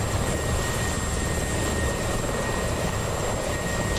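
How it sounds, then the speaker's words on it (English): Helicopter flying in the Black Shark combat flight game during a PvP event, a steady broadband rotor and engine drone that holds constant and fairly loud for the whole stretch with no talk over it. "Just waiting for that helicopter to get a little bit of out of range."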